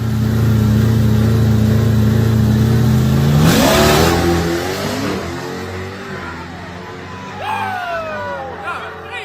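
Dodge Hellcat cars grudge drag racing: a loud, steady engine drone surges around the third second into hard revving with climbing pitch, then fades into distant, rising whines as the cars pull away.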